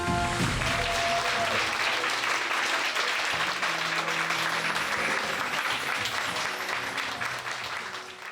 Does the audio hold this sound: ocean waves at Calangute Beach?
no